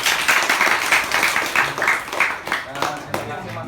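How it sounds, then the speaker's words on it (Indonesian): Short burst of audience clapping at an informal workshop gathering, a few uneven waves of hand claps that thin out toward the end, moderately close. "tepuk tangan dulu yang meriah"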